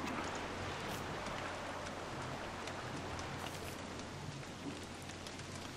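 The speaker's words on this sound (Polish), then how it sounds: "O! Deszczyk. Deszczyk." Steady rain from the video game Don't Starve Together patters continuously as a dense, even hiss of drops, holding at the same level throughout with no voices.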